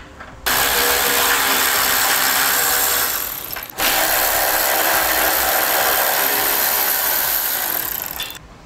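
Power tool removing 12mm base plate bolts on a 2002 Honda CR-V, heard as two long, loud, steady runs of rattling ratchet buzz split by a brief pause, close to the listener.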